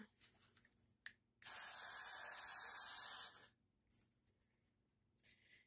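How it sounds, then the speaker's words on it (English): A steady hiss of hairspray from an aerosol can sprayed around a wig's edge, one continuous spray lasting about two seconds, close and fairly loud, with faint brief noises around it. "you want to use your hairspray and you want to spray just like around your edge area."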